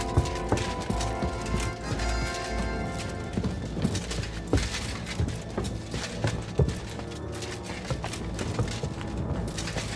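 Rhythmic clip-clop of horse hooves in the video game Kingdom Come: Deliverance II, with game music and effects, an occasional whinny and thuds mixed in, fairly loud and busy throughout.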